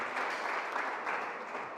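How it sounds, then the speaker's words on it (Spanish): A church congregation gives a strong round of applause in an El Shaddai church service in Rosarito, a dense, even wash of clapping that holds steady for a short burst. "damos un fuerte aplauso a Jesucristo por la vida de Elda Fierro"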